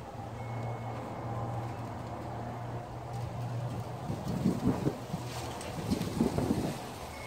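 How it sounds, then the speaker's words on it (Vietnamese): A strong wind blows among succulent plants outdoors, a continuous rushing roar with gusts that swell toward the end, heard without speech. "Này gió quá trời"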